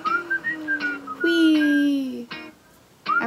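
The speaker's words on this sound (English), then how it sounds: "I remember the whistle. I've heard the whistle." Bright whistled melody from a K-pop song, sustained tones rising and falling in short phrases with brief pauses, loud and clear over the music.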